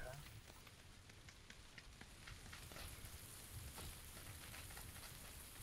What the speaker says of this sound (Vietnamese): Mưa giờ ồn ghê.